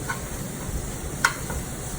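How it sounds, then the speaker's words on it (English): Food frying in a pan on a stovetop, a steady soft sizzle throughout with a few faint clinks, no talk. "I like it to be sizzling the whole time when I cook."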